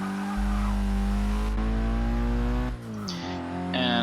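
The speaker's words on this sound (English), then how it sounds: "let's see if it wants to burn out now" Nissan Silvia Spec-R S15 drift build in Forza Motorsport 6 holding a loud, steady engine drone with tire squeal through a burnout, then dropping off and revving up again near the end.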